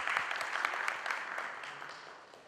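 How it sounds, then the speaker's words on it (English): An audience at a conference talk gives a round of applause, a close, brisk patter of many hands that gradually fades over a couple of seconds. "Big round of applause for them."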